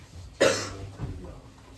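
A single sharp cough from someone resting outside with a cold, loud and close, followed by a softer trailing breath against quiet background noise.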